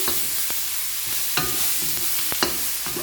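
Chopped tomato being stirred into a homemade Sri Lankan prawn curry in a pan, with irregular spoon scrapes and knocks over a steady soft sizzle, close and moderately loud, no talking.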